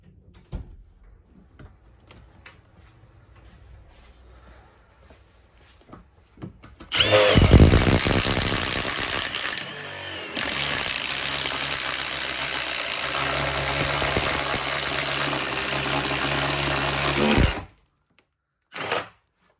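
A DeWalt DCF850 impact driver runs on its third speed setting, a loud, continuous high-pitched whine with rapid hammering lasting about ten seconds, briefly dipping mid-run, then stopping with a short final burst.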